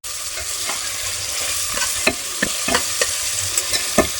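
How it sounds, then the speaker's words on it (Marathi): Chopped onions frying in a pan with curry leaves for a home-style rajma rice, giving a steady close sizzle broken by sharp crackles and pops, with no talking. "आता कांदा टाकून घेते मी।"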